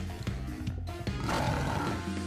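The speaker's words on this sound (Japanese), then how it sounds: "眼前に虎が現れる。" A tiger roars in a video game set near a zoo, a rough, sustained growl swelling loudly over a dense layer of game music and ambience for about two seconds.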